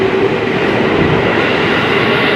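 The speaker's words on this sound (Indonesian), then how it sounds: "Ini yang KRL-nya berangkat dari stasiun Sudirman." A KRL commuter train pulls out of Sudirman station, its wheels and cars rumbling in a loud, continuous close-up roar with a faint steady whine above it.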